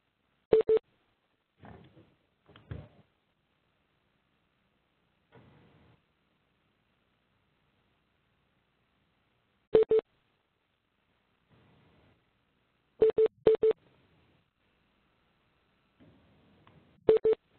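Short electronic call tones chirp as participants drop out of an online webinar, coming as isolated single and double beeps scattered across long stretches of near silence, faint and clipped.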